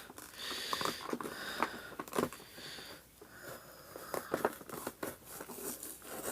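Starlink Battle for Atlas toy packaging being opened by hand, quiet close crinkling, tearing and rustling of cardboard and plastic in irregular bursts, with no voices.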